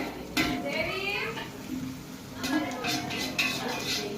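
Onions sautéing in a pan give off brief bursts of spatula scraping and clatter against the metal, with a soft frying hiss underneath. People talk over it throughout.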